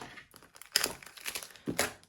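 Close, quiet crinkling and rustling in short bursts as a cardboard box wrapped in a lot of tape is pulled open and unwrapped.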